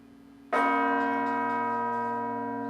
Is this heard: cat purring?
no